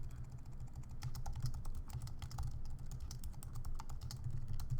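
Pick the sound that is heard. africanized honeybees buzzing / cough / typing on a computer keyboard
typing on a computer keyboard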